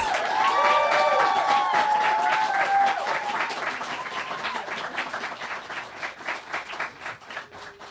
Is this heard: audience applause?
yes